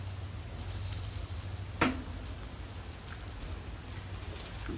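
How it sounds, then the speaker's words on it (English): Sausage sizzles on a Blackstone griddle with a soft, steady crackle and hiss, faint and close, broken by one sharp clink midway through. "you can hear that sausage sizzle"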